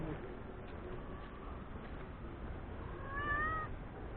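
A cat gives one drawn-out meow near the end over a steady, muffled background hum.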